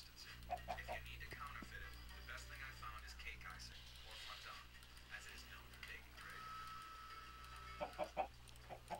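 Chickens in a Minecraft survival chicken coop, with scattered soft clucks and short squawks under a man's ongoing speech and a low steady background hum.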